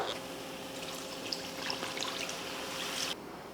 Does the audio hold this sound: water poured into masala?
yes